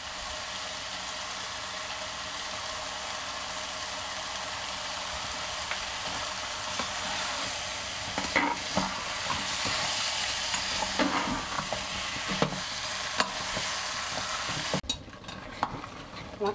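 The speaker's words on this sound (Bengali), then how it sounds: "আমার খাসির মাংসটা প্রায় 10 মিনিট ধরে আমি এইভাবে কষছি" Mutton stir-fries in a pan for a curry, a continuous bright sizzle with repeated scraping and clattering of a spatula stirring the meat, growing busier toward the end.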